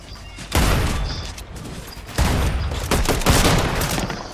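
Gunfire in a shooter video game, two long loud bursts of dense rapid shots, the first fading after about a second and a half, the second sustained to the end.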